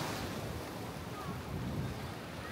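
Strong ocean waves breaking at a shore at Sipalay, a steady broadband roar of surf with wind noise on the microphone, continuous and fairly loud throughout with no talking.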